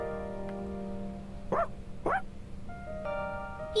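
A dog in the video game Persona 3 Reload gives two short, sharp barks over steady background game music, followed by a soft electronic tone.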